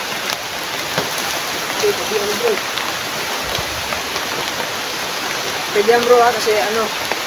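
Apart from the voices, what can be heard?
rain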